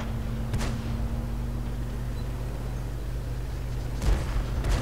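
Tank cannon shots from the ELC EVEN 90 in a video game, two sharp booming blasts about three and a half seconds apart over a constant low engine drone, with no talking.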